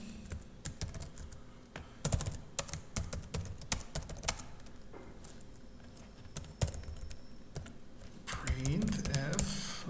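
Fingers type code comments on a computer keyboard in irregular quick clusters of close, crisp key clicks, with someone speaking softly underneath and more clearly near the end.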